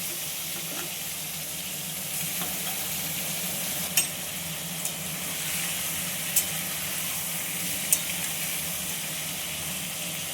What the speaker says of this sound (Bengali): এইবার আমি চিংড়ি মাছগুলো হালকা একটু অল্প করে সাঁতলে নেব, বেশি ভাজবো না, একদম হালকা সাঁতলানো।